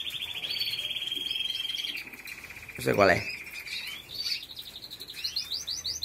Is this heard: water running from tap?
no